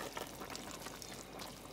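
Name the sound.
water poured into a pot of cook-up rice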